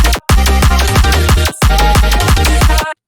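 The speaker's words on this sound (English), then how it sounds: "I don't really know what to call this other than like the HyperPounce Stab" Dariacore HyperPounce Stab, sampled from a song with no effects, sounds as loud, punchy repeated synth stabs in fast rhythmic bursts. Two brief gaps break the pattern, and it cuts off abruptly near the end.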